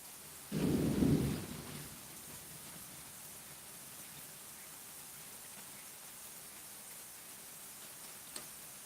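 One loud thunder rumble rolls in early and fades within about a second, leaving steady rainfall hiss for the rest of the stretch, with a faint click near the end.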